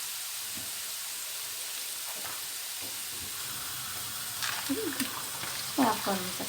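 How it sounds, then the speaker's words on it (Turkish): Spinach goes into a hot pan for a spinach rose börek filling and gets stirred, a steady frying hiss with clattering stir noises near the end, while someone talks softly in Turkish. "şöyle bir karıştırıyoruz hafif aroması çıksın diye ve artık ıspanaklarımızı da katabiliriz"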